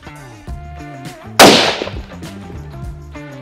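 A single loud, sharp rifle shot with a crack and brief echo, set against quiet background music.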